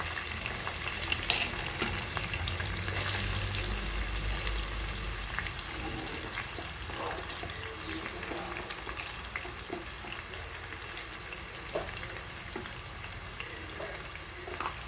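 Pre-cut onions and green chillies frying in a pan, a steady soft sizzle that stays fairly faint throughout, with occasional light clicks and no voices.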